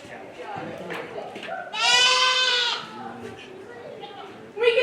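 Dairy goats bleat at a county fair dairy show, one loud, drawn-out bleat standing out amid lighter animal calls and a voice speaking over the pen.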